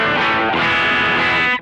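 Overdriven electric guitar through the overdrive effect of a NUX Cerberus multi-effects unit, a loud, continuous sustained chord with dense harmonic grit ringing for about a second and a half before cutting off.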